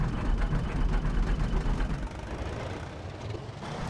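A tractor engine in the DayZ mod for ArmA 2 runs with a low, rough, chugging rumble that stays loud and close, easing slightly partway through, with no talking.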